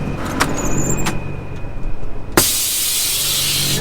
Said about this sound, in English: Let me release the brakes first.